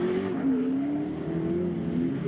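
Drift car engine holding a steady high rev on a competition track during a pro drift series qualifying run, a loud continuous droning note that wavers slightly with throttle, heard alone.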